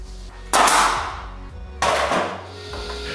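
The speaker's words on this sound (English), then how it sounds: "When I have all the pieces I need, I glue and nail them together." Nails driven into wooden jig pieces for a movable part, two loud sharp hammer blows about a second and a half apart, each followed by a ringing decay, in a quiet workshop.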